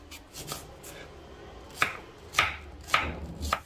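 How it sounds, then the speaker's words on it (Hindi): Raw banana diced into small pieces with a knife on a cutting board, heard as sharp close chops, sparse at first and then in a faster run of four or five strikes. "छोटे छोटे छोटे करके आप डाइस कर लो"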